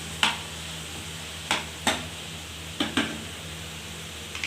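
A spoon stirs chicken macaroni sauce in a pot, giving six sharp scraping clinks at uneven intervals over a soft, steady background hiss.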